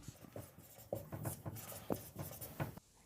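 Pen strokes scratching across paper while writing out the given equations of a Class 10 board-exam maths problem, a quick run of close, distinct scribbles and taps in short bursts, no voices.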